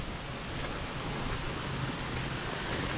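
Water gushing steadily from an irrigation outlet, a broad continuous rush that stays level and fairly loud throughout with no talk over it.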